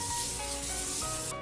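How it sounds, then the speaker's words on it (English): Nonstick cooking spray hisses in one steady, close burst over chicken skewers marinated in buttermilk, a broad airy mist that holds its level for about a second and a half, then cuts off. "I'm going to mist it with nonstick spray"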